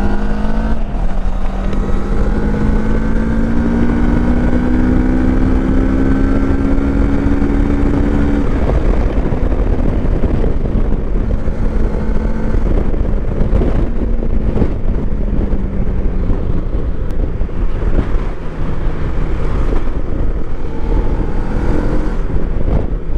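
A 2025 CFMoto 700MT touring motorcycle, roughly 70 hp, accelerates hard on a test ride, its engine note climbing steadily through the gears, loud and close, with wind rush over the microphone throughout.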